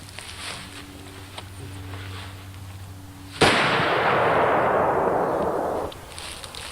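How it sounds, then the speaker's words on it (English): .577 rifle fired with a muzzle brake outdoors, one sudden loud blast whose roar rolls on for about two seconds before fading, with no talk. "The tremendous muzzle blast of this gun."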